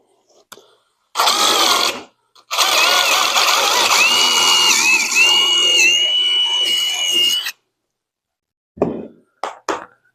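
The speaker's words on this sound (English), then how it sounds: "I'm just drilling a hole" A power drill whirs loudly in two close bursts, the second longer with the motor pitch rising and falling, followed by a few short clicks.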